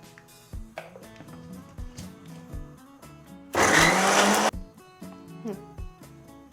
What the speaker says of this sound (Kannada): ನೀರಿಲ್ಲದೆ ನುರಿಯಲ್ಲ, ಹಾಗಾಗಿ ಒಂಚೂರು ನೀರು ಹಾಕೊಂಡು ರುಬ್ಕೊಳ್ಳೋದು ಸೂಕ್ತ